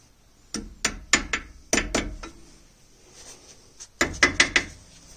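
A hammer taps on brake caliper parts during an S3 brake upgrade on an Audi A3 1.8 turbo, sharp metallic knocks in quick bursts of three to five hits separated by short pauses.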